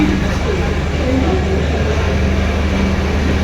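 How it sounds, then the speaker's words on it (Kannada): A loud, continuous low rumble and rattle of a train on the Goa to Bengaluru route rolling by close up, steady for the whole stretch, with no talking heard. "ನೋಡ್ರಿ ನಮ್ಮ ಟ್ರೈನ್ ಪಾಸ್ ಆಯ್ತೈತೆ"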